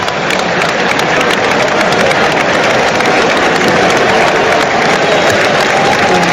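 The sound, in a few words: crowd applauding substituted Wales player Connor Roberts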